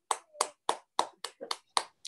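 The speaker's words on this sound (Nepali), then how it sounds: "हामी परमेश्वरलाई धन्यवाद दिन्छौँ ठुलो तालीको साथ" Claps from a congregation at a Nepali family church devotion: about eight sharp, evenly spaced claps over two seconds, crisp and close with short silences between them.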